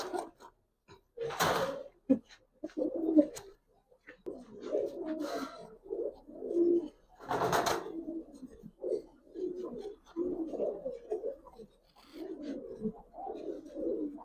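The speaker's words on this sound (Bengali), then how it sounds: "সবুজ গলা কবুতর" Green-necked pigeons cooing at a pigeon sale, soft low repeated coos in bursts throughout, close by, with a couple of sharp rustling scrapes in between.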